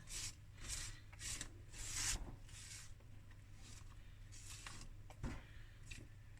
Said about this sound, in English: just bring the batter in with a spatula